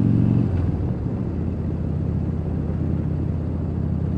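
An engine running after being cranked, a loud steady low rumble that swells slightly at the start and then holds an even idle throughout, no voices.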